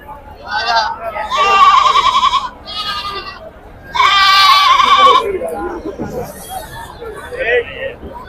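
Goats and their young kids bleat at a livestock market in Mydukur, several loud, close, wavering cries in separate bursts over steady crowd chatter.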